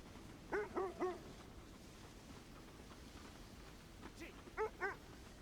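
Sled dogs in Kona II: Brume give two short bursts of whimpering barks and yips, one near the start and one near the end, with a quiet, steady ambient bed between them.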